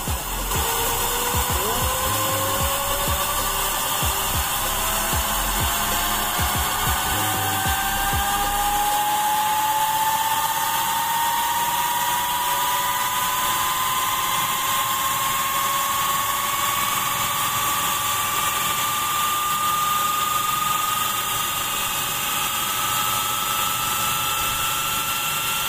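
A small steam turbine spins up a DC generator, its high whine rising steadily in pitch over a constant loud hiss of escaping steam, continuous for the whole stretch with no talk.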